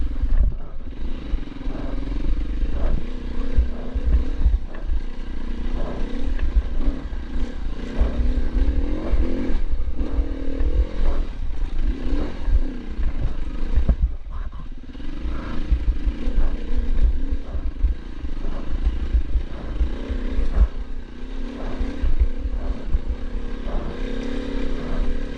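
Dirt bike ridden solo on trails at Middle Park, its engine droning and revving close by with rising and falling throttle, rattles and clatter from rough ground throughout.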